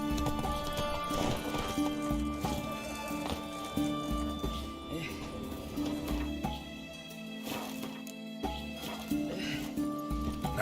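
Horse galloping in the video game The Witcher 3, rhythmic hoofbeats clopping steadily under game music, with a brief whinny and a voice speaking in places.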